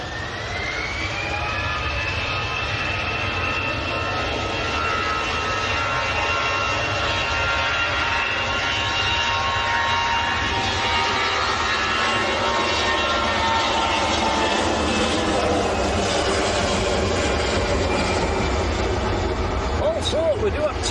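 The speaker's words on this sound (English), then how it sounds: "Turkish A330 is taxiing out. Going out to Istanbul." A Turkish Airlines A330 jet taxis out at Manchester Airport, its steady engine whine and broad rumble droning continuously throughout, with voices talking over it.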